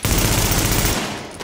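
Rapid automatic gunfire from the video game Tom Clancy's The Division, a loud, dense burst of rattling shots that stops abruptly near the end.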